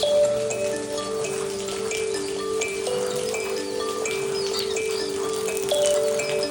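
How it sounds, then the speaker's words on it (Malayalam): Rain falls outside a rural Kerala home, a constant soft patter and hiss with scattered drips over a steady low hum, continuing evenly without any talk. "മഴ ഒന്ന് തോരട്ടെ, എന്നിട്ട് നമുക്ക് കാന്താരി നുള്ളിയിട്ട് വരാം."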